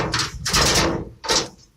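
Toolpro toolbox drawers sliding open and shut after being unlocked, two or three rasping metal slides in quick succession, close and fairly loud.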